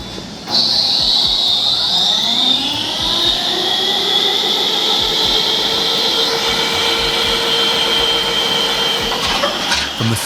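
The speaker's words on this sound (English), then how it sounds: "the CAT G36116 speaks through its exhaust with purpose, releasing not chaos, but controlled force" A Caterpillar CAT G3616 industrial gas engine runs loud through its exhaust, its pitch rising as it spools up in the first few seconds, then holding a steady, powerful drone with whining tones until near the end.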